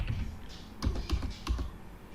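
Keys clatter on a computer keyboard during accounting voucher entry, a few bursts of close, crisp clicks separated by short pauses, with no one speaking.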